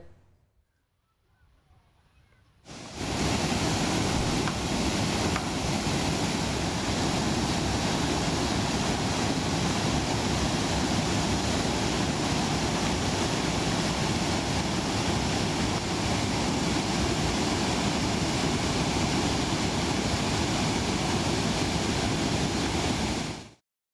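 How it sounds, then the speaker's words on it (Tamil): Manimuthar waterfall in flood, a loud, unbroken roar of heavy cascading water that starts after a quiet opening few seconds and holds steady throughout. "மணிமுத்தாறு அருவியில் தொடரும் வெள்ளப்பெருக்கு காரணமாக அருவிக்கு செல்ல வனத்துறை தடை விதித்துள்ளது"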